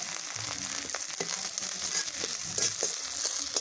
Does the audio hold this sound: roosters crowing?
no